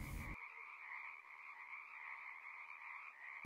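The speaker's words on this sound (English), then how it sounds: "On Pebble Island, there lived three frogs, Marilyn, August" Several frogs croak steadily in a continuous chorus, a sustained rhythmic trilling that stays even and fairly faint throughout, with a brief burst of broadband noise at the very start.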